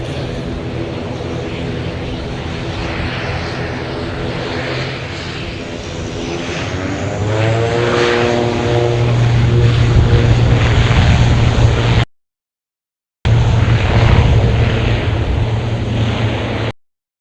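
An airplane taking off from a runway during Waitangi Day plane spotting in New Zealand roars loudly, its propeller engine drone swelling and rising in pitch, broken once by a brief silent gap before resuming.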